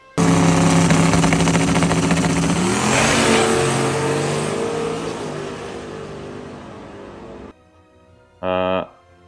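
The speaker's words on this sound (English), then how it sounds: "we went up first pass, the truck dead hooked, as you can see" A drag racing truck launches down the strip at a no-prep race, its engine roaring loud and steady for several seconds before fading as it pulls away, then a brief burst of sound after a moment of quiet.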